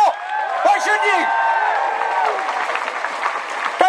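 Crowd applause and cheering at an outdoor political protest in London, a dense wash of clapping under raised voices and shouts, steady and loud throughout.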